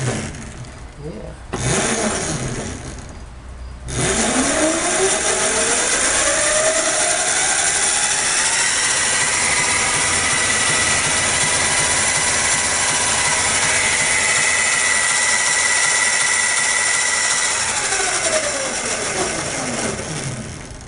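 An Excalibur 60V electric go-kart motor runs forward under throttle, a loud continuous electric whine that rises in pitch as it spins up, then holds steady for a long stretch, close by, after some brief clicks at the start.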